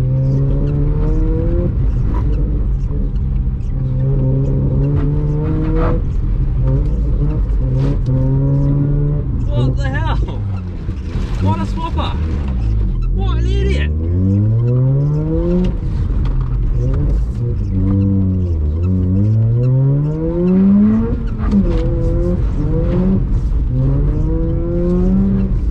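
Mazda RX-8 rotary engine with a flame tune driven hard on a race track, loud and close from inside the car, repeatedly revving up through the gears and dropping back with sharp shifts and crackles, continuous throughout.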